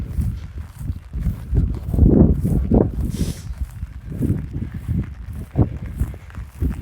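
Cows walk on a rural road in the UK Borderlands, their hooves thudding and scuffing in an uneven, close rhythm over a low outdoor rumble, with occasional louder steps and light rustling.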